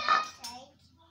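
Kitchen pots, dishes and bowls are handled, giving a sharp metallic clink followed by a second lighter clatter. The sounds then fade into near quiet, and a faint voice may be present.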